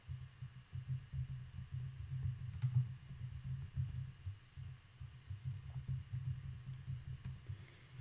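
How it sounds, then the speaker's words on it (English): Steady run of computer keyboard typing during a live online Q&A session, soft, close, continuous clicking with no talk over it. "Brad, I'll type it in the chat."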